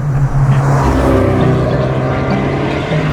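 Full-throttle acceleration from a Peugeot RCZ-R, a loud sustained engine drone with rising harmonics that fills the whole stretch, no talking.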